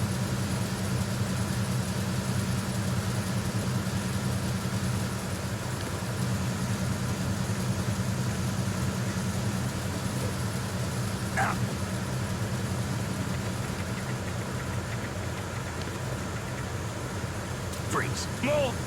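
A loud engine drones steadily and continuously in Metal Gear Solid 2, a heavy low hum that never lets up, with a couple of faint clicks on top.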